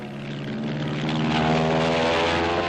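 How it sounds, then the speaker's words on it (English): A Grumman F7F Tigercat twin-engine fighter bomber with Double Wasp engines flies past in 1945, its propeller drone loud, steady and slowly swelling. "The F-7F, known as the Tiger Cat, a new twin-engine fighter bomber."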